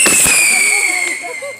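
Firecrackers crackle and hiss at a Christmas bonfire, a loud close burst with a fizzing whistle, over excited voices shouting nearby.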